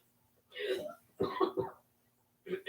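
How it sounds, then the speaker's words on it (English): A woman coughs several times indoors, a few harsh throaty bursts spaced out over a couple of seconds, fairly close, with quiet gaps between them. "Pardon my wife's coughing."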